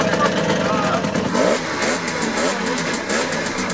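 A Simson Schwalbe two-stroke scooter revving hard on a dynamometer at a 2022 oldtimer meet in Merzdorf, a loud, close, buzzing engine note that rises and wavers continuously with the rest of the event audible behind it.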